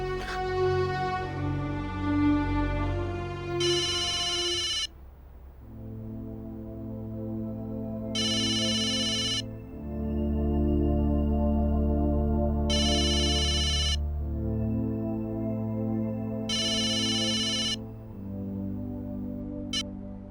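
A phone rings repeatedly as someone calls Trisha, a melodic ringtone pattern repeating in regular bursts with short gaps, loud and close and with no talking over it.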